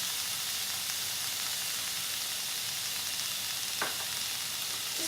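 Steak seasoned with pepper and salt sears in hot oil in a pan, giving a steady, dense sizzle throughout with a faint clink partway through. There is no talking.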